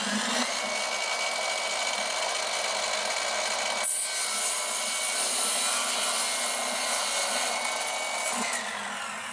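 Cordless BOMVINK miter saw cutting a narrow strip of pine: a steady, loud whine runs throughout with a sharp change in tone near the middle, then continues evenly to the end, with no talking.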